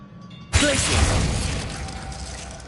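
Glacius ice spell cast in Hogwarts Legacy: a sudden loud crackling, shattering burst of freezing ice that hangs on as a bright, hissing shimmer and slowly fades over a couple of seconds.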